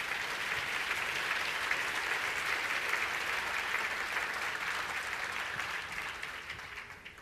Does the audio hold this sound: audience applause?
yes